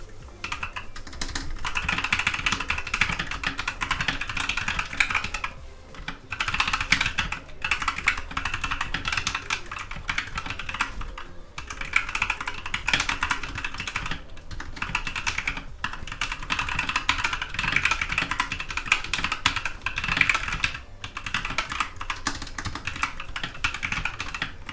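Steady, fast typing on a Glorious GMMK 2 mechanical keyboard gives a dense stream of close, crisp switch clicks and clacks with a few short pauses, and no voices.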